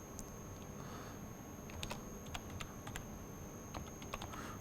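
Faint, irregular key clicks of someone typing Matlab or Octave code on a computer keyboard, scattered short bursts over a steady low hum, no talk.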